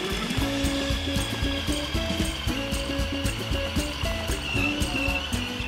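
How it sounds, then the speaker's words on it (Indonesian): A kitchen blender grinds a mix of mushroom stock and ice water, a loud, steady motor whine with rattling, rhythmic churning as the contents tumble, running the whole time without speech. "Dan kita haluskan sampai semua bahan tercampur rata."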